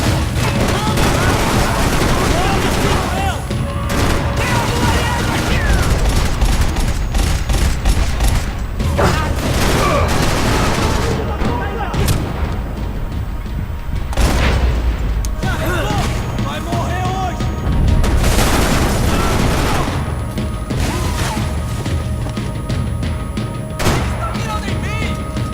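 Dense dual-wielded gunfire from the Max Payne 3 video game, loud and sustained with rapid overlapping shots and occasional heavier booms, mixed with game effects and some voices underneath.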